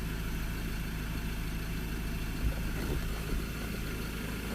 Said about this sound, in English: I feel like a slight rough idle